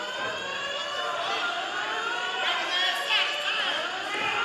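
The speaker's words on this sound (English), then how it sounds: "Looks like there's a fire alarm going off in the building" Building fire alarm sounding continuously at a cagefighting event, a steady high electronic tone mixed with rising and falling wails, with crowd chatter and voices throughout.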